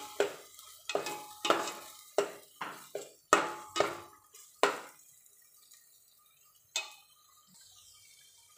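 Suhana pav bhaji masala is sautéed in a pan as a spoon stirs it, a run of sharp, evenly spaced scraping knocks that thins out to a few isolated taps over a faint sizzle.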